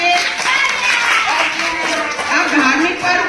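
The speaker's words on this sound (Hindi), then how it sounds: "जोरदार तालियां बजाओ दीदी के लिए" Children clap for a girl at a Holi celebration in a slum neighbourhood, a steady, dense patter of many small hands at close range with voices chattering over it throughout.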